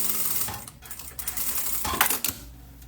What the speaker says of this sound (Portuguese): Vou fazer uma costura aqui, ó, na boca com 1 centímetro.